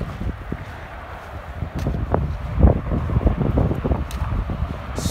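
Strong gusting wind on a mountain hiking trail buffets the microphone in a steady low roar, swelling louder in the middle with rough rumbling bursts and faint rustling.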